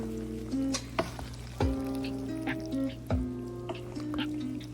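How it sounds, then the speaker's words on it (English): Baked mac and cheese pasta being folded into a creamy cheese mixture, thick wet squelching strokes repeating every second or so, close and fairly quiet over a low steady hum. "we're going to continue to mix that mixture till it's really well coated"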